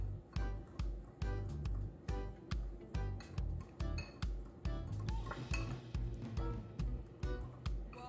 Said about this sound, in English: Then you're just gonna get your whisk, gonna mix everything together